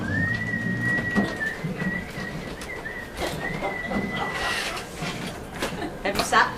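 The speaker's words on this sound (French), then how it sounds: "Attends, je vais siffler." A person whistles a long, steady high note with a few short breaks, fairly faint against a noisy room background.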